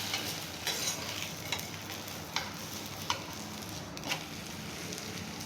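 Dhapate flatbread frying in oil on a hot griddle gives off a steady sizzle, with a few louder scraping taps as the flatbread is turned or pressed; no voices.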